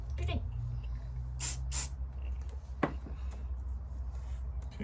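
Two quick bursts of aerosol glue spray hiss over a steady low hum while making puppet arm rods, followed later by a sharp tap.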